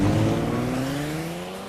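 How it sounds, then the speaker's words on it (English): A 375-horsepower Hyundai Genesis accelerates hard, its engine note climbing steadily in pitch, loud and close, with no other sounds. "The new 375 horsepower Hyundai Genesis can go from 0 to 60 faster than a Porsche Boxster."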